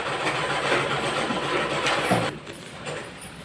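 A sewing machine stitches a seam along a straight kurti, a dense, loud, close mechanical whir that runs steadily, then drops off partway through to a quieter hum.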